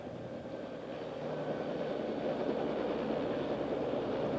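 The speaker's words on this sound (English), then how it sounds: "Roll throttle to idle stop and allow to idle for 2 minutes." A Bell OH-58 helicopter turbine engine idles at the idle stop, a steady, fairly quiet whirring drone that builds slightly and then holds even.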